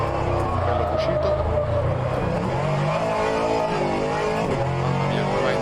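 A GT3 race car drifts with oversteer through a corner exit in the racing sim rFactor 2. The engine note is loud and continuous, rising and falling as the car slides and revs, and someone talks over it.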